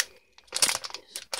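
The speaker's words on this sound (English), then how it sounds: "And I got a package stuck to my other arm. Great. I'm just gonna cut this one" A plastic-wrapped package being cut open gives short, close bursts of crinkling and crackling plastic, with brief pauses between them.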